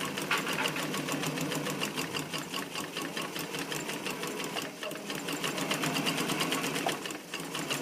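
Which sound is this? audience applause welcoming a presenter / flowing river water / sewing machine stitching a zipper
sewing machine stitching a zipper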